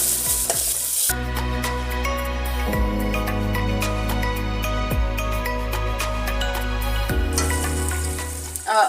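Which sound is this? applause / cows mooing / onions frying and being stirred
onions frying and being stirred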